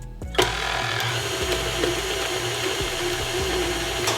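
An electric mixer whirs steadily through plant-based oatnog sugar cookie batter, a continuous motor drone with faint rhythmic clicks, close and alone after a brief start.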